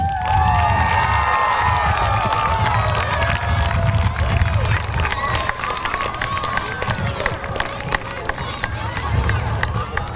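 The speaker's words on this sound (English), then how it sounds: "let's give them a round of applause." Boys and girls at a school assembly clap and cheer loudly, with high shouts and squeals over dense applause, the excitement holding strong through most of the clip before easing slightly.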